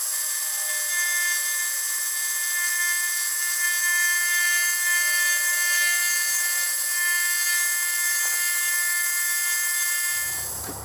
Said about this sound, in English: climb milling just a couple of thousandths off, really clean that up nice